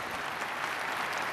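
Audience applause at a family reunion event, a steady wash of clapping hands held at an even, moderate level throughout with no voices over it.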